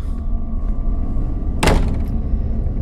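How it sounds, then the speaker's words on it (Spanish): A door closes in the horror game MADiSON with a single broadband thud partway through, set against a low, steady rumbling ambience and no voices. "Se ha cerrado la puerta."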